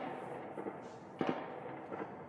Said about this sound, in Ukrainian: там чутно, як раз за разом навіть постріли